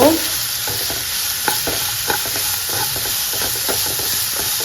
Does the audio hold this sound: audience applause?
no